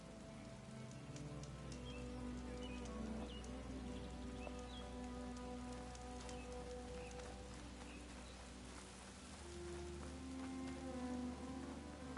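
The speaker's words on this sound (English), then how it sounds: "And of course it's raining." Continuous rain in the video game Horizon Forbidden West on PS5 patters down evenly, a soft steady hiss with droplet texture, accompanied by faint sustained tones underneath, quiet and without speech.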